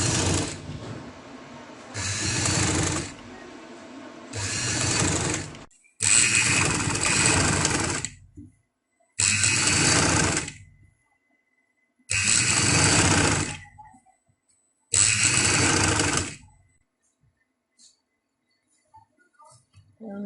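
A sewing machine stitches fabric while lace is attached to a winter garment, running in five or six loud bursts of steady mechanical whirring, each lasting a second or two and separated by short pauses, with no one talking.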